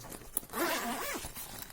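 A zip-lock bag opening as part of unpacking an AliExpress parcel, with a short crisp plastic rip and rustle near the mic, preceded by a small click and followed by light crinkling.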